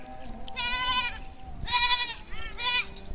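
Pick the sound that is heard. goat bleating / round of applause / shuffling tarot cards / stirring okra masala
goat bleating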